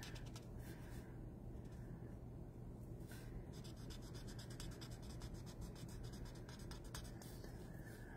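Markers coloring on paper for stamped card flower leaves, a continuous soft scratchy rubbing with brief rhythmic stroking bursts, close and alone.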